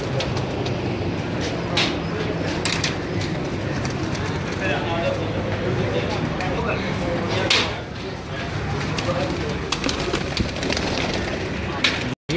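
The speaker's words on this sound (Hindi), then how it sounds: "ये के नायाब मगर कबूतर हैं" Magar pigeons cooing at someone's home, soft low coos under steady outdoor background noise and continuous nearby talk, with occasional sharper bird calls.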